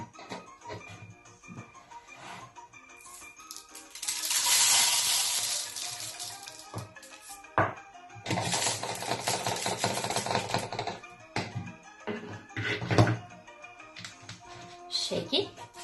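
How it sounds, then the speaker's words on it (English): Dry raw rice pours through a funnel into a plastic bottle, a hissing, pattering rush in bursts of grains against the plastic, with pauses and small knocks between pours. "Get one of the bottle and put a cup of rice inside it using a funnel."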